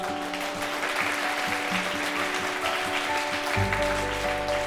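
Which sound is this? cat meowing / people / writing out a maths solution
people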